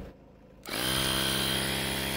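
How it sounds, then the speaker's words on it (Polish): Following a brief quiet, an electric car tire pump switches on to inflate a flat tire, then runs as a loud, steady motor hum with a constant buzzing whine until the end. "Na szczęście mam pompkę samochodową, więc chwila, moment i będzie napompowane"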